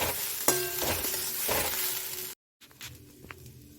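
Spicy semolina (suji) frying in a pan and being stirred: a steady close sizzle with scraping and light clinks, a brief silent break, then quieter frying.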